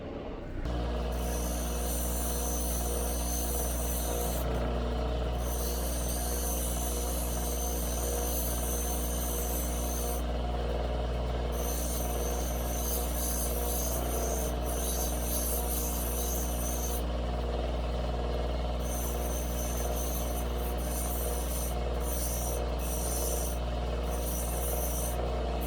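Ethiopian opal rough being cut, a steady whirring grind with a constant low machine hum and a high rasping edge that cuts in and out across the whole stretch.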